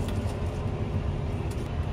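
Steady whirring drone of a cab fan inside a quadtrac tractor working a straw field, a constant low hum with faint rumble underneath and no voices.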